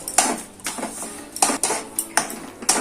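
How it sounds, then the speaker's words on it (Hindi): Spoon stirring a thickening semolina, sugar and milk mixture in a metal pan, heard as repeated sharp scraping clinks against the pan at an uneven rhythm, close and clear with no talking. "अब हमें इसको गाढ़ा होने तक, डो बनने तक चलाते रहना है।"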